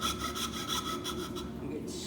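A hand file rubs back and forth against a small wooden tulip leaf cutout, giving steady rasping strokes in an even rhythm, close and moderately loud with no talking.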